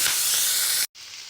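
Mustard seeds, cumin, turmeric, tomatoes, chilies and curry leaves hitting hot oil for a tempering, a loud close hissing sizzle that breaks off briefly and then continues more softly.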